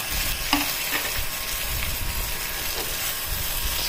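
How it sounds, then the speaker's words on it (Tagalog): Eggplant with tuna and oyster sauce sizzles steadily in a pan, a constant close frying hiss with a few soft stirring scrapes. "Tapos, ihulog ko na yung talong."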